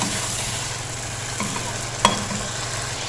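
Korma frying in ghee in a pan, a steady close sizzle with light stirring scrapes and one sharp clink partway through.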